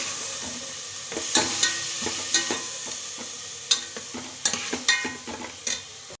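Two large onions fry in a pan with a soft, steady sizzle, while a spoon scrapes and stirs them in a series of sharp, irregular clinks and scrapes close by.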